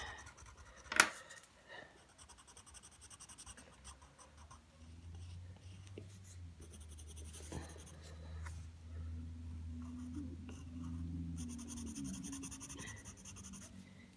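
Dark and light green colored pencils shade on paper with a soft, continuous scratchy rasp, quiet and close, broken by a sharp tap near the start and a low hum in the background.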